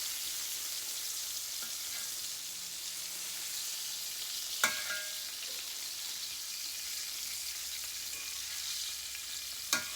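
Browned, tender deer steaks fry in a pan with a steady, soft sizzling hiss that continues throughout, broken by two sharp utensil clinks, heard close but quiet and with no voices.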